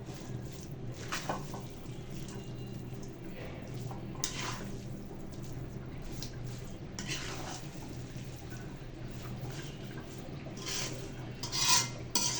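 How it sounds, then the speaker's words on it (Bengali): A spoon stirring and mixing cabbage and cauliflower in a pan over a very low flame, with soft, irregular scrapes and clinks over a steady low kitchen hum. "চেক করে সুন্দর করে আবার এটাকে মিক্স করে নেবেন।"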